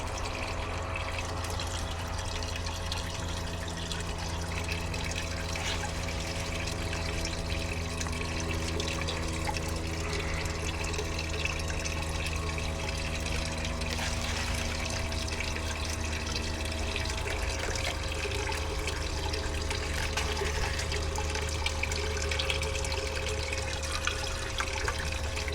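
Water swirls steadily in a blue bowl gold concentrator, a constant rushing, churning flow with a low pump hum beneath it, alone and unbroken.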